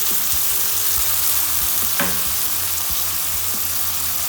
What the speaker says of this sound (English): At this point, we will put the tomato puree.